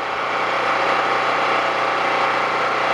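A portable generator engine runs on half choke, a steady close idle drone with no breaks.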